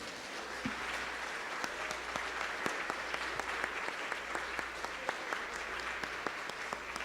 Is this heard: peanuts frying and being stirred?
no